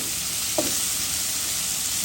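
Dried loitta fish crackles and sizzles in hot oil in a pan, a steady, close, dense hiss with no talking.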